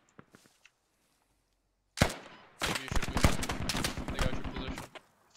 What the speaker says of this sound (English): Shadow's assault line taking fire from the 50 cal or the Dishka on the hill.